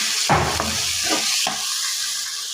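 Ridge gourd fried with a spice paste in a hot pan, producing a loud, close sizzle. Two or three short stirring scrapes come early on, and no voice is heard.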